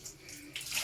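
A basin of water is poured over a dog during an outdoor bath, giving a short splashy rush of water that lasts under a second, close and moderately loud.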